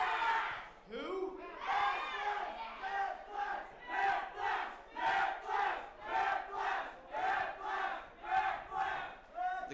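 A wrestling crowd at a T2T Academy show in Pittsburgh roars and chants in a steady rising-and-falling rhythm, loud and close, about a dozen repeated swells in a row.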